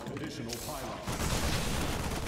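A sudden gunshot-like boom in a video game about a second in, followed by louder rumbling noise. The background stays busy and noisy throughout.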